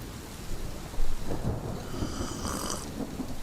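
Rain falls steadily while low rumbles of thunder roll through, no voices present.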